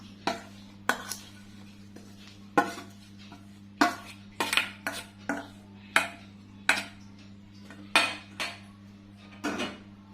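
Spoon stirring rempeyek batter of thick coconut milk and dried rebon shrimp in a bowl, a series of sharp clinks and scrapes against the bowl in an uneven rhythm over a low steady hum, without speech.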